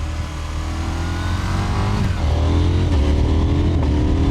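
KTM 990 Duke R naked motorcycle engine revving loudly and continuously up close, a steady deep drone rising in pitch with a couple of throttle surges.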